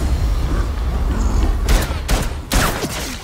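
Pistol gunfire in the video game The Evil Within 2: a few sharp shots over a dense, noisy game soundscape, not much louder than the background.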